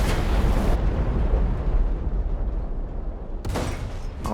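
A T-126 tank cannon in War Thunder fires with a loud, close boom that decays into a long rumbling roar, followed by another sharp blast near the end.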